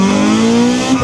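A Honda Civic Type R EP3 launches from a standstill, its engine note climbing loud and close in one short, rising rev.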